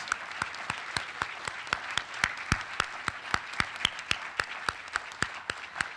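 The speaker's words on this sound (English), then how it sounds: "Let's give our honorees one more round of applause." At a community arts awards ceremony, hands clap in a crisp, evenly spaced rhythm, about four claps per second, fairly close and moderately loud over a quiet room murmur.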